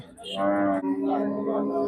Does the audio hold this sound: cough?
no